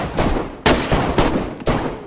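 Rapid bursts of gunfire in the DayZ video game, with several sharp volleys at roughly half-second intervals, loud and close with no talk over them.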